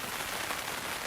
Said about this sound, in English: we cook meals as the rain pounds on the roof